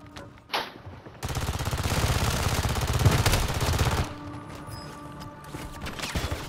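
Call of Duty gunfire: a single sharp shot, then a dense sustained burst of rapid automatic fire for about three seconds, followed by scattered closer shots and clatter as it tails off.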